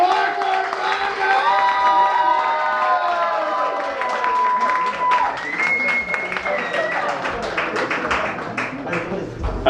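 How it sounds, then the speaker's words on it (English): A comedy lounge crowd claps and cheers as a stand-up comedian is introduced, dense applause with whoops and shouted cheers, loud and close, lasting nearly ten seconds. "Start clapping up."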